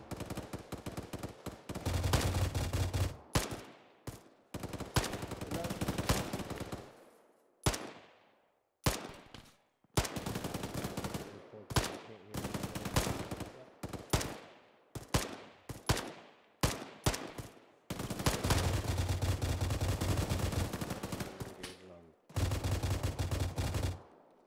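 Loud gunfire from the military game Arma 3 with Russian VDV troops: long sustained automatic bursts broken by short gaps and single cracks, close and continuous for over twenty seconds with no talk.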